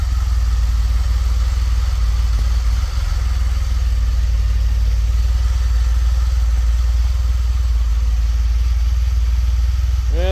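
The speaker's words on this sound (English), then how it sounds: "They do kind of this idle surge for a bit." Cold DeLorean engine idling with a slight surge, heard close and loud as a steady low rumble that barely varies in level.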